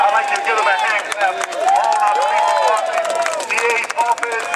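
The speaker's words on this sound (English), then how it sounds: "I'd like you to give them a hand clap." A crowd clapping for the police department at a Take Back the Night community gathering in Frankford, with steady hand claps running throughout while voices call out and talk over them.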